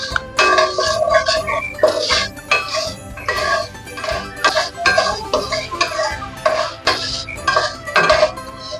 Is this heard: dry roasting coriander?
yes